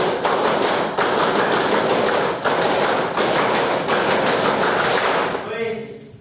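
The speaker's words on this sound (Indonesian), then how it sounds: "Tepuk 2 kali tepuk pramuka." A classroom of vocational high school students doing scout-style rhythmic clapping (tepuk pramuka): loud, crowded group claps in a fast, patterned beat that continue for several seconds before trailing off into voices.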